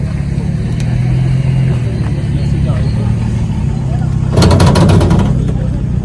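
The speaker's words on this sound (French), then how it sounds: "Donc le petit moteur Austin, 4 cylindres." A 1970 Austin Healey Sprite's small four-cylinder Austin engine idles with a low, steady rumble beneath people chatting nearby outdoors on a terrace, with a brief burst of brighter noise near the end.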